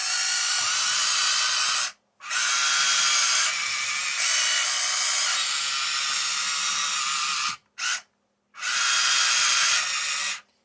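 A Huina 1593 RC excavator's chassis rotation motor whines in a high, buzzy electric drone, running in several bursts separated by brief silent pauses, close and loud.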